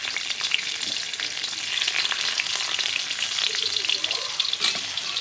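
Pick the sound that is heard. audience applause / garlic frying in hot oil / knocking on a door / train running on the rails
garlic frying in hot oil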